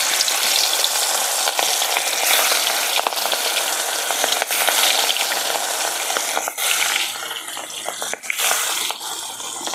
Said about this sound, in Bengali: তো এই যে কড়াইতে তেল দিয়েছিলাম, তেল গরম হয়ে গেছে, একটু খুন্তি দিয়ে কড়াইয়ের গায়ের সাথে লাগিয়ে দিলাম। তো এখন আমি মাছ দিয়ে দেব।